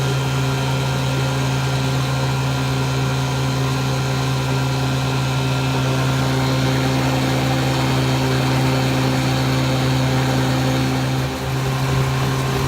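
A 1954 Johnson 5-1/2 outboard boat motor drones steadily and loudly with a buzzing, even tone, running at constant speed with no talk.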